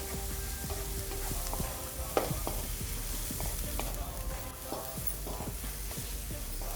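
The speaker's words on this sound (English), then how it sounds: "We are going to cook these onions till fry them. Keep stirring till the color changes a bit." Onions frying in oil for chilli paneer, a constant close sizzle with scattered spoon scrapes and clicks as they are stirred, no talking.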